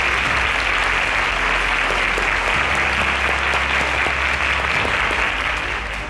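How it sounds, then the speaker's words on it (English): A studio audience on a quiz show applauds after contestants give correct answers, a loud dense burst of clapping that runs steadily for several seconds over a low hum, tapering slightly at the end. "Round of applause for that."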